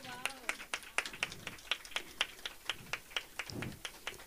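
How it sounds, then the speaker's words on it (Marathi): A small audience at a Women's Day felicitation ceremony claps in a fairly even rhythm. The claps are distinct and separated rather than a dense roar, fairly quiet and close, with a brief voice in between. "जोरदार टाळ्या"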